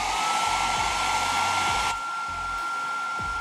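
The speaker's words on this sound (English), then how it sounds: "hit that with a hairdryer and get it warmed up a little bit until those gaps close" Hair dryer warming 3M adhesive on a helmet, a loud continuous whirring blow with a steady motor whine, dropping slightly in level partway through.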